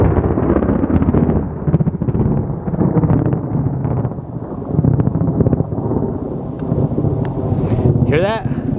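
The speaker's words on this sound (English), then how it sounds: "Not sure if you guys caught that thunder" Thunder rolls over a rural homestead as a long, loud, low rumble with wind buffeting the microphone, easing slightly midway, with a high chirp near the end.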